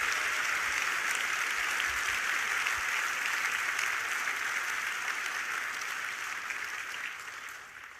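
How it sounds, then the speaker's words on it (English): Audience applause fills a large hall at a Marine Corps Ball, a dense, steady clapping that holds strong for most of the stretch before easing slightly at the end, with no voices over it. "So I'd ask you to just join me in a round of applause for everybody who has"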